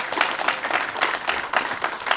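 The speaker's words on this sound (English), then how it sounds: "One more big round of applause for everybody." A room of people at a Brazilian jiu-jitsu belt promotion night claps together, with the dense applause holding steady and moderately loud through the whole clip.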